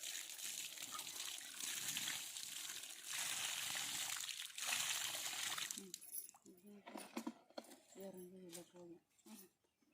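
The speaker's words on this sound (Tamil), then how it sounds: "இப்போ தண்ணி ஊற்றலாம்." Water is poured onto freshly planted bean seeds in soil, a continuous splashing trickle for several seconds that then gives way to voices.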